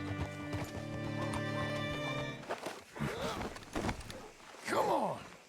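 Horse hooves clip-clopping in Red Dead Redemption 2, with a steady music bed at first, then snorts and a whinny near the end.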